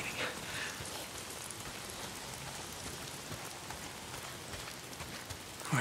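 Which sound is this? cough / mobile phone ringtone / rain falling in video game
rain falling in video game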